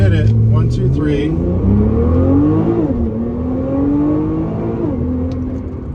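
A Nissan GT-R R35 fitted with a GR6 transmission accelerates hard through its gears at full power. The engine note climbs and drops at each shift, close and loud, and a voice talks over it.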